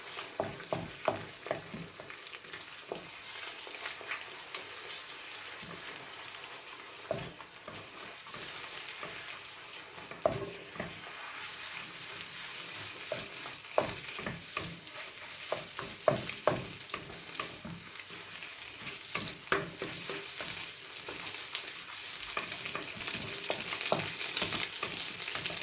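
Eggs sizzle steadily in a pan on an electric cooker while being scrambled, with frequent scraping and tapping strokes of the utensil over a constant frying hiss that grows slightly louder toward the end.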